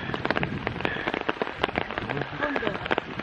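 Rain pattering on a umbrella or hood beneath a large cedar at a shrine precinct in Tateyama, Chiba, a dense close patter of irregular drops throughout.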